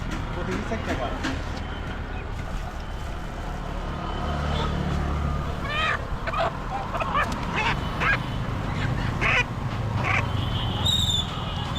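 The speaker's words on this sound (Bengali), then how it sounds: "এগুলো হচ্ছে যে অরিজিনাল দেশি মুরগি যেগুলো পার্বত্য অঞ্চলে পাওয়া যায়" Native hill chickens at a poultry market make loud, repeated honking squawks and clucks up close amid a noisy crowd, with people talking throughout and some traffic-like rumble underneath.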